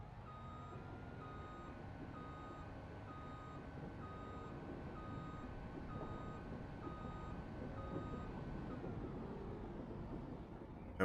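Truck reversing alarm in Farming Simulator 25, a steady series of evenly spaced electronic beeps over a low engine hum, continuing for about nine seconds before stopping, no talking.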